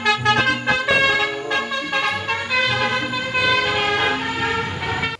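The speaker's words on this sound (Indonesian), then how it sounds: "Widih, ada bus telolet." A bus telolet horn plays a loud, close, multi-tone musical melody, tooting continuously with shifting pitches for several seconds.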